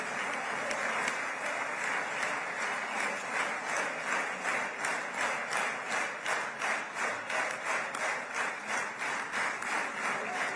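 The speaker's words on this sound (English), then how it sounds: "The last time I heard regimented clapping like that was in a North Korean celebration of their leader, or maybe in the Nazi days of Hitler" A crowd claps in tight, regimented unison: steady, evenly spaced beats that repeat all the way through at a moderate, fairly distant level, with no talking over them.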